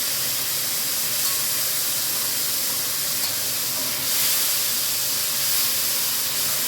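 Suppengrün of celery, carrot, parsnip and parsley goes into a hot pot for braised beef ribs and sizzles with a steady, broad hiss that holds for several seconds.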